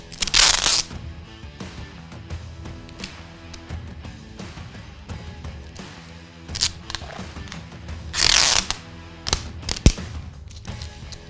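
Tape is pulled and wrapped in a barrel wrap around the end of a heavily stressed envelope: a few loud ripping bursts of tape peeling off the roll, separated by quieter handling rustles and taps.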